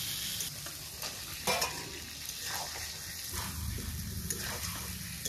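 Spice paste sizzling in a pan for a potato and cauliflower dalna, a moderate steady frying hiss with occasional stirring scrapes, fairly soft and close.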